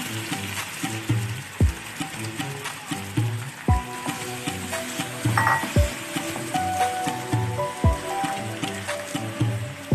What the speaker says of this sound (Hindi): तो अब हम फ्राई करेंगे चिकन को।